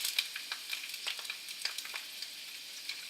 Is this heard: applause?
no